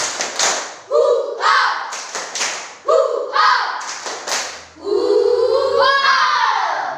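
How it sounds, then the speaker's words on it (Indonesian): A primary-school class stands and performs a rhythmic spirit clap, sharp patterned claps and thumps alternating with loud group chanting by children's voices, ending in a long sustained shout. "tepuk semangat"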